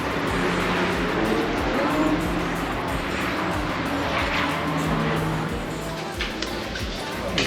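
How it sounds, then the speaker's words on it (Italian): Race cars circle the Nürburgring track with a steady roar of engines under heavy throttle, heard from a distance as a continuous wash of noise with talk over it. "si vedono tutte le macchine che girano e che gli danno anche pesante sul pedale dell'acceleratore"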